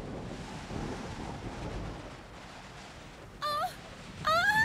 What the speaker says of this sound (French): Quel sale vent! Il a presque porté mon parapluie!